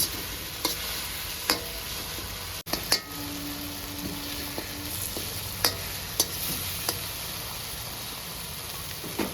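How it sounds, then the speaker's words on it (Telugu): Chicken liver and tomato fry in a pan with a soft, steady sizzle, broken by several sharp clicks and scrapes of a spoon stirring against the pan; fairly quiet and close, with no talking. "ఫ్రై అయింది టమోటా మొత్తము"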